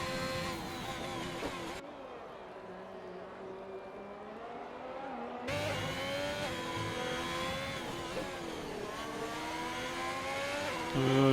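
A Formula 1 car on fresh soft tyres screams through a flying lap in the F1 2021 video game in Spain, its high engine note rising and falling with gear changes, muffled for a few seconds before returning loud and close.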